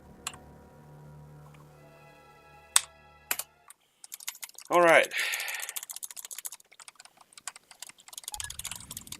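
Computer keyboard typing during a Deltarune speedrun, with scattered clicks and bursts of rapid key presses after a brief word, alongside game sounds.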